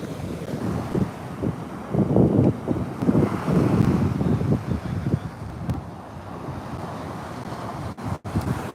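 Breeze buffets the microphone at a seaside jetty, low rumbling gusts mixing with the wash of surf that rises and falls steadily, then eases to a quieter ocean hiss.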